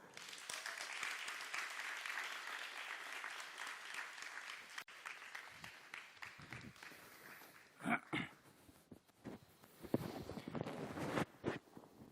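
An audience applauds at a business launch event to welcome a general manager, with steady clapping for the whole stretch and some louder claps and thumps near the end.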